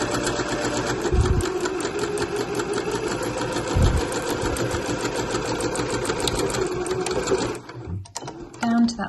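Sewing machine back stitching a bag lining seam, a continuous fast close mechanical whir that stops near the end, with a voice speaking over it.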